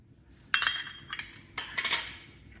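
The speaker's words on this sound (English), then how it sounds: "It's not like it's my first time to scrape a bowl with a spoon." A spoon scraping grated cheese out of a bowl, two short rounds of clinking, scraping metal-on-dish sounds, close and clear over a faint low hum, with no talking.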